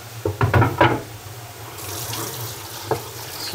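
Tap water splashing close by as a kitchen chopping board is rinsed, a short run of gushing and clattering at first, then a softer trickle and one brief knock.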